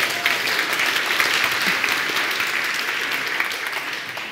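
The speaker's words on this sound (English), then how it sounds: "I would never imagine that someone claps when I'm running." A conference audience at a JavaScript talk claps, a dense, lively burst of applause with crisp individual hand claps, fairly loud and even throughout, with no talk over it.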